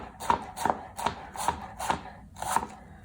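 Knife chopping greens for a spicy green coleslaw on a board, six evenly spaced crisp chops at a steady rhythm, close and clear with no voices.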